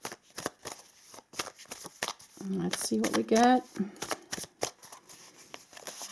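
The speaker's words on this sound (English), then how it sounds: "Shuffle a little bit and then I'll pull." Tarot cards are shuffled by hand in a series of crisp riffling bursts and soft slaps, close and fairly quiet, with a brief spoken remark in the middle.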